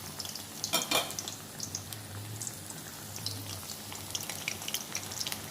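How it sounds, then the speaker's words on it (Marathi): Pumpkin flower bhaji deep-frying in oil over medium heat, a steady soft bubbling hiss with a few light clinks of a spoon near the start; no talking. "मीडियम आचेवर आपल्याला भजी तळायची आहे."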